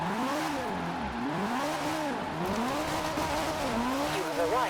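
A Toyota GT86 with a swapped 2JZ engine in Forza Horizon 4 runs at full throttle in fifth gear, its pitch rising and falling in waves over several seconds. Tire squeal joins it and a voice talks over it.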